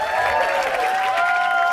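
Comedy club audience applauding during a stand-up set, a short steady burst of clapping with faint crowd murmur and a sustained tonal hum running underneath.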